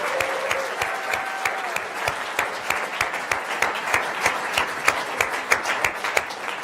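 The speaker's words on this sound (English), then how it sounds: "let's give another round of applause for all of the teams who have pitched tonight" An audience at an evening pitch competition claps in sustained, dense applause, with sharp individual claps popping out from the crowd throughout.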